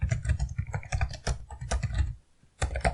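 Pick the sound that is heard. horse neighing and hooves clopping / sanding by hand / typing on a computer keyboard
typing on a computer keyboard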